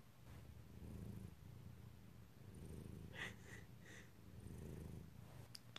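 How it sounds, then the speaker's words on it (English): A cat purrs softly and continuously up close, a low rumbling vibration with faint breathy sounds over it. "one of the most calming things ever is to hear a cat purring"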